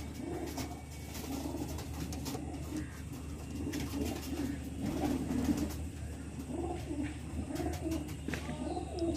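Pigeons of the Black Diamond, Andhra, Lambadi and Kalsira breeds coo softly and continuously in a loft, their low rolling calls overlapping under a busy background hum, with faint chirps above.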